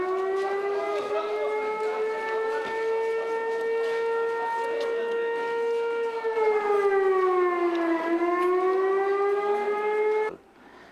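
A loud, sustained siren wails steadily at around 5 p.m., marking the day's first meal, dipping in pitch briefly before rising again, then cutting off abruptly near the end.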